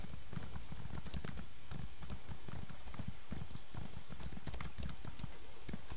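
Horse hooves clip-clop in a rapid, steady rhythm while riding in the video game The Elder Scrolls Online, loud and continuous over a constant game background.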